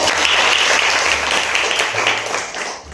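A classroom audience claps loudly and steadily for a young girl named Arnika before she tells a story, a dense sustained round of applause that tapers slightly at the end.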